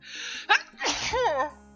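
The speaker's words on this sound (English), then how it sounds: "I was trying to finish that sentence before the sneeze came out." A single close, sharp sneeze bursts out, preceded by a brief breathy intake and followed by a voiced exclamation trailing off.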